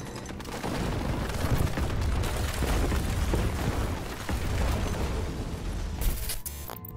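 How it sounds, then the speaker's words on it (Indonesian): American aircraft fire guns at random into rocky ground where Chinese troops are positioned, a loud, dense, continuous roar of gunfire and booms lasting several seconds with no talking. "mereka berputar balik dan melepaskan tembakan secara random ke arah bebatuan"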